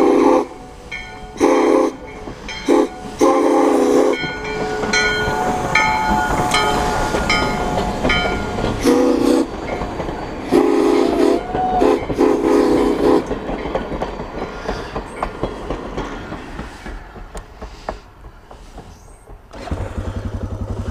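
Steam train chuffing past in the outback, its horn or whistle sounding in repeated blasts over a rolling clatter of wheels and wagons that fades into the distance.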